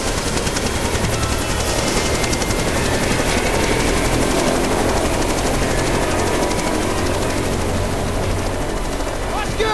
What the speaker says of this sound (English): The chopper! Right now!